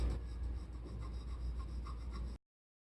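A pencil rubs steadily across paper, shading the lower lip of a portrait drawing with light pressure. The soft, continuous scratchy strokes sound close and quiet, with no talking.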